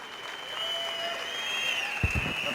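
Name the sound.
applause for Kamlendra Singh Gehlot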